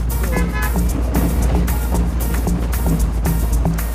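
A danfo minibus rumbles along a potholed Lagos road, its engine a steady low drone under repeated rattles and jolts, with a few horn-like toots standing out.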